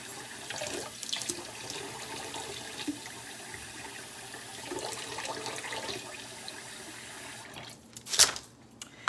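Water spooned or poured into a tablespoon of non-dairy egg replacer while preparing vegan crab cakes, a soft, low-level trickle with a brief louder splash near the end.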